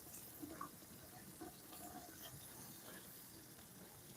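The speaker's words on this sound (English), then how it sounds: "I know I got the water going." Water runs from a household tap in a steady, faint gushing hiss that stays even and continuous, with no talk over it.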